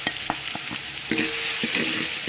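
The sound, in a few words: stirring masala, turmeric and chili powder into fried onions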